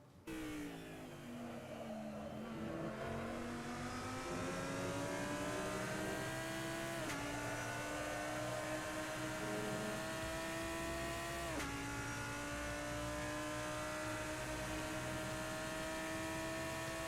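A Lamborghini GT3 race car engine in Assetto Corsa drones loud and constant around the Spa-Francorchamps circuit, its pitch climbing steadily through each gear, with two sharp upshifts dropping the tone before it rises again.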